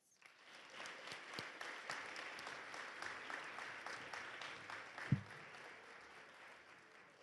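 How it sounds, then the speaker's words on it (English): An audience applauds its volunteers at a chapel gathering, with steady clapping lasting several seconds at moderate distance and a single louder thump near the end. "Let's give our volunteers a round of applause."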